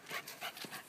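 A dog pants quickly near a house, a few short breathy puffs in a loose rhythm, soft and close with no talking.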